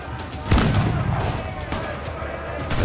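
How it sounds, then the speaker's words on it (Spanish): Cannon fire in the pirate naval combat of Assassin's Creed IV Black Flag: a sharp boom followed by rumbling blasts and scattered reports, with a couple of later cracks as the barrage continues. "Esto de los cañonazos va medio regular"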